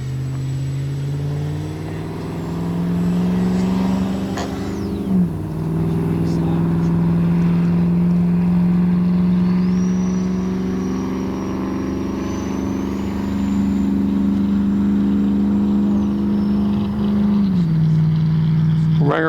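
A Flyfans Su-27 64mm twin ducted fan RC jet whines steadily overhead, pitch rising and dipping as it climbs and passes, with a faint rumble beneath and a brief voice at times.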